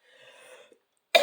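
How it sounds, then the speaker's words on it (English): A single short, harsh cough bursts out near the end after a stretch of faint tonal background noise, close and fairly loud. "I still have that nasty cough"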